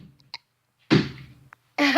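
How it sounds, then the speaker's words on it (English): A deliberate fake burp from a person, a loud low rasping belch of about half a second, followed by a brief pause and the start of another voiced, burp-like sound at the end. "I burp again."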